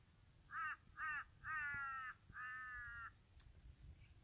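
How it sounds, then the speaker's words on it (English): Crows cawing in a series of four harsh, ringing calls, the later ones drawn out longer, heard fairly close and clear over a quiet background with no talking. "the crows coming in at this time"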